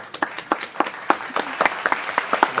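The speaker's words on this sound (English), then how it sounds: "Everybody give a hand clap to Dr. Studebaker" A small group claps sparsely by hand, distinct individual claps in an uneven, scattered rhythm, close and fairly loud, with no talking.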